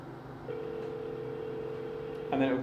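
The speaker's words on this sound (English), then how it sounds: "It calls me first, and then you get an international dial tone." A steady international telephone dial tone hums for a couple of seconds over a faint background, then a brief burst of voices cuts in at the end.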